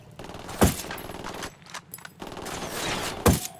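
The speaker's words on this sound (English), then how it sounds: "Opening fire." Gunfire in the tactical shooter game Ghost Recon Wildlands, with two loud sharp shots about three seconds apart over a low rumbling background and scattered softer noises.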